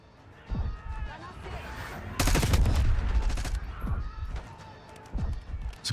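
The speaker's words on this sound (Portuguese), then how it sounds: "Os caras estão atirando forte, hein?" Gunfire in Call of Duty Black Ops 6 on Xbox Series X: a dense burst of shots in the middle with scattered single cracks around it, while a voice talks over the game.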